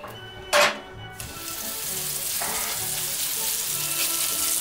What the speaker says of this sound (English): this pan is pretty hot. I'm gonna put the steak on